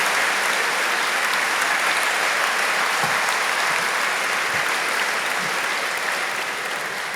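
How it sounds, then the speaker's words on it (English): A large graduation ceremony audience applauds in a hall, with dense, even clapping that holds steady from start to finish without pause. "So please, will you give them a round of applause?"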